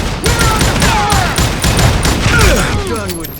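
A loud, sustained shootout from the video game Call of Juarez: Gunslinger, set at a camp outside Parachute, Colorado: rapid overlapping gunshots and bangs crackle almost without pause for the whole stretch.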